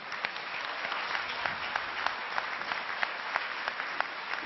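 Audience applause fills a conference hall during a colloquium on retirees, a steady, moderately distant patter of many hands with a few sharper claps standing out, no voices over it.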